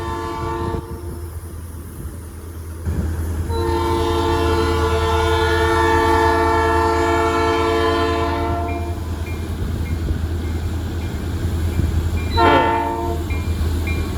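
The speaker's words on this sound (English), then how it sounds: "Oh, here comes the train." A street-running train rumbles past close by in Iowa while its horn blasts long and loud, then sounds again in a shorter burst over the rolling clatter.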